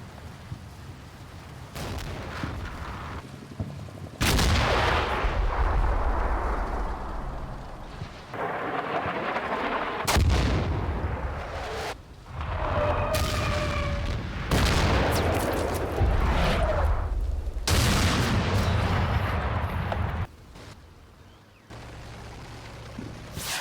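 Enemy artillery barrage in the Combat Mission Red Thunder wargame: repeated heavy booming blasts, loud and close, rolling one into the next with rumbling tails over roughly twenty seconds, no talk.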